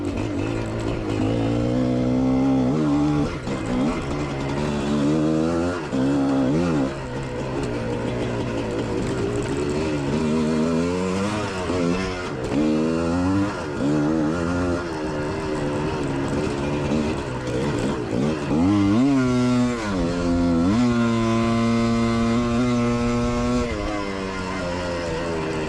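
A GPX motorcycle engine revs and labors across a slippery quarry at Spaunton during riding practice, its pitch sweeping up and down continuously as the throttle opens and closes, loud and close for the whole stretch.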